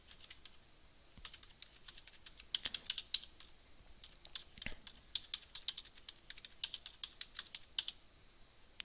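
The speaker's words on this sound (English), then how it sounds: "I'm just gonna type uploaded a copyright-free image." Quick, light keystrokes on a computer keyboard come in uneven bursts with brief pauses, close and fairly quiet, with no talking.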